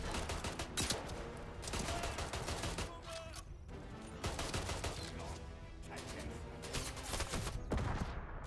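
Bursts of rapid gunfire in the video game Atomfall come in loud, dense volleys separated by brief lulls, close and harsh.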